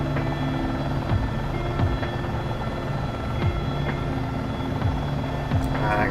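Simulated AS350 B3+ helicopter turbine whine and rotor thump holding steady as it lifts off and turns in a flight simulator game, close and continuous with a faint high tone near the end.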